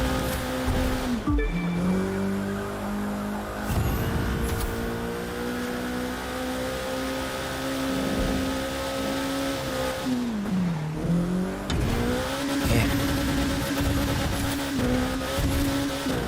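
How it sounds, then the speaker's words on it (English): An Alpha GP race car in The Crew 2 screams at high revs in a sustained, near engine whine, dipping briefly at two gear changes and climbing again, with tire noise underneath. "Alpha GP cars are definitely a different flavor in terms of handling"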